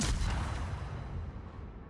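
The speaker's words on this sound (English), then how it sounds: "taking shots now at the Yamato" Naval gunfire aimed at the battleship Yamato in a warship video game, heard as a single heavy, booming salvo close up with a rumbling tail that fades out.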